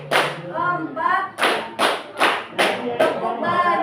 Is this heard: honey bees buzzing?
no